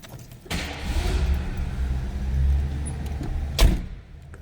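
A 1977 Lincoln Continental Town Car's 460 V8 catches with a sudden burst, then settles into a steady, deep rumble close by, ending with a sharp thump.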